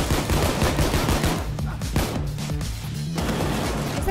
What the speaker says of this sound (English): I shot one of them.